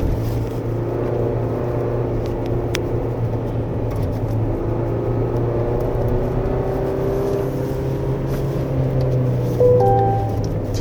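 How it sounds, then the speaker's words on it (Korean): A 2025 Chevrolet Colorado Z71 pickup engine holds a loud, steady high-RPM drone with a strong low hum on a winding road, continuous throughout with a brief tonal chime near the end. "RPM이 높은 데서 이게 정말 얘 엔진 사운드만일까 싶긴 합니다."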